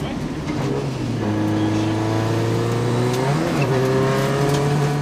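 A rally car at full speed on a stage of the Tall Pines Rally, its engine a loud, sustained drone with rising and falling pitch through gear changes, close and continuous without pause.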